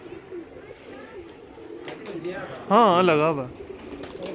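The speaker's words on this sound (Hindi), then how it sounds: "ये कबूतर है" A pigeon coos in a few rolling, wavering calls close by, with other birds faint behind it and someone talking softly, at a loft where a flock of pigeons is flown.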